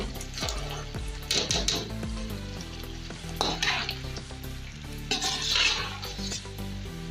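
Boiled black-eyed beans for a chicken curry are stirred in a pan over a steady sizzle, with repeated scraping and clinking of a spoon against the metal, close and moderately loud, and no talk.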